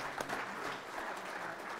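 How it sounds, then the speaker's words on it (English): A church congregation applauds its new leadership during a service, a full, even burst of many hands clapping close by that carries through the whole moment without talking. "let's give these friends a round of applause"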